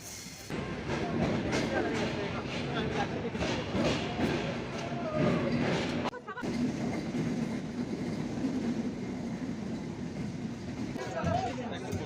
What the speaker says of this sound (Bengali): আমাদের পদ্মা এক্সপ্রেস ট্রেন তার তৃতীয় যাত্রা বিরতি স্টেশন ঈশ্বরদী বাইপাস রেল স্টেশনে প্রবেশ করল